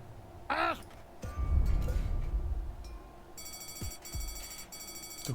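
A telephone rings in the point-and-click adventure game Deponia: a bright, repeating electronic trill enters partway through and pulses in short bursts over game sounds and background noise.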